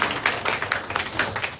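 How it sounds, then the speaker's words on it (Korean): Audience applause at a public redevelopment residents' briefing in Gwangju, a steady patter of many hands clapping with irregular louder bursts that fills the whole short stretch without pause. "우리 신주희 위원장님께 다시 한번 큰 박수 한번 부탁드리겠습니다."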